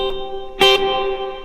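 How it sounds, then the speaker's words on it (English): Clean electric guitar with overdrive switched off and reverb on: a sustained chord rings out, then a sharp strum or pick attack, its tail washing out into a soft reverberant decay. "I'll turn off the overdrive. So this is as much reverb as I have right here."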